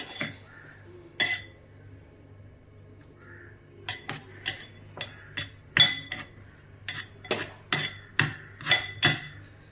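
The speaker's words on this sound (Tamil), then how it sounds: "இந்த மாதிரி மத்து வச்சு நல்லா மசிச்சுக்கலாம்" Sweet potato is mashed with a wooden masher in a pot, making about a dozen sharp knocks close by. A few are spaced early, then they come quicker in an irregular run over a low steady hum.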